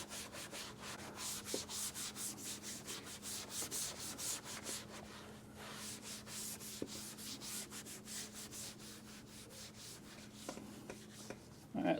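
Scotch-Brite pad scrubbing aged black plastic and rubber exterior car trim, a steady close abrasive rubbing with rhythmic back-and-forth strokes, continuous throughout with a faint low hum in the background.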